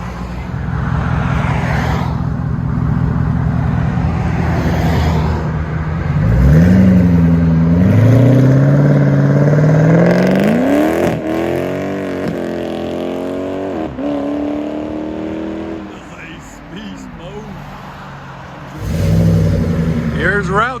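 A 2008 Ford Mustang GT California Special with a 4.6L V8 and Pypes Bombs exhaust revs loudly and close, rising and falling in several throttle sweeps over a rumbling idle.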